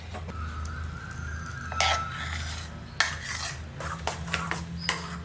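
A spoon scrapes and stirs banana sponge cake batter in a bowl, giving close rasping swishes with a few sharper clinks against the bowl's side.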